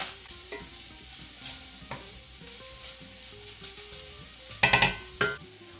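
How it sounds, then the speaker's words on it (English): Onion and sweet peppers sizzling in a pan while being stirred, with a constant frying hiss, scattered scraping strokes, and a few sharp louder clatters near the end. "Half of an onion and some sweet peppers. Stir this up a little bit."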